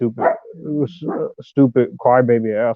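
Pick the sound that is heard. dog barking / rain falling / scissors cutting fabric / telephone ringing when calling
dog barking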